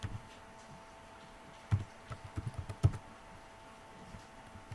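A project name is typed on a computer keyboard in a quiet room: a short, irregular run of close, crisp key clicks with a few louder taps.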